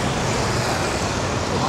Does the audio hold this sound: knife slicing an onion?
no